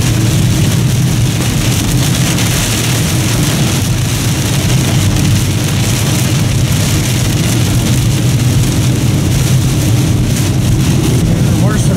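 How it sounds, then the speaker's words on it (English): Heavy storm rain drumming hard on a car on a California road trip, a dense, constant hiss and patter filling the cabin with no letup. "It's raining so hard, it's raining sideways."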